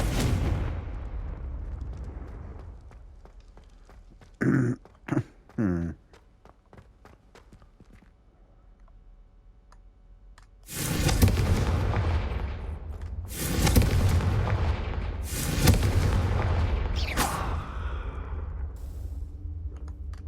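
Confringo blasting curse in Hogwarts Legacy: a few sharp bursts mid-way, then heavy booming explosions crash repeatedly in loud waves with rumbling tails, separated by brief quieter gaps.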